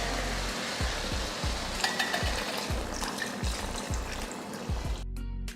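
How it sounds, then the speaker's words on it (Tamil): Water is poured into a pan of chicken curry that has been sautéed with Kashmiri chilli powder, giving a steady wet rush and sizzle with rhythmic low thumps throughout, close and fairly loud, before a brief drop at the end. "இப்போ தண்ணி சேர்த்துக்கலாம்"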